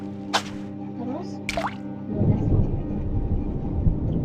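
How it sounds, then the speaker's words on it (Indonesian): Thunder rumbles in a Roblox survival game, a low, steady roll that builds after a couple of short dripping, squelchy effects and a tonal game sound, continuing to the end. "Oh iya, badai jadi bergemuruh."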